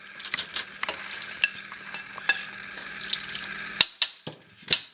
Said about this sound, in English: add our potatoes back into our mix